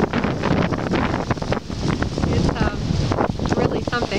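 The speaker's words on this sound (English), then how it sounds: "It's quite a gust." A strong gust of wind during a freak windstorm in Ontario, roaring steadily and loudly across the microphone for several seconds.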